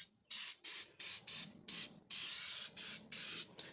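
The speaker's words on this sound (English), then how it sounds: "Let's see how this sprays out." Blaster Surface Shield undercoating hisses from a spray can onto a Range Rover's underside in a run of short, loud bursts, about ten in quick succession with brief gaps and one longer spray in the middle.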